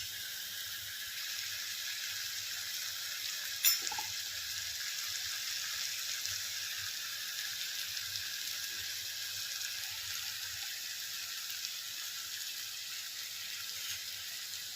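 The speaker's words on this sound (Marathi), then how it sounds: "अशा प्रकारे मसाला फ्राय होतो" Masala fries in a pan as a steady, soft sizzling hiss, constant and close, with one brief clink partway through and no talking.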